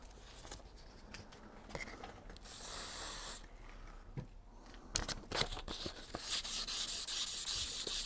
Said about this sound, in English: people say it's good to sand around the tube